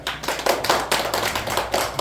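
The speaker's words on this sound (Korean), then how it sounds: "박수." A church congregation applauding after a Sunday service, a short burst of close, rhythmic clapping with several distinct loud claps.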